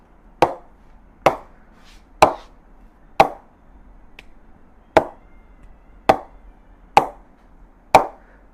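A DSC Blak 300 cricket bat is tapped with a mallet in a ping test: nine sharp wooden knocks, evenly spaced about a second apart, each crisp and close with a short ringing decay, no talk.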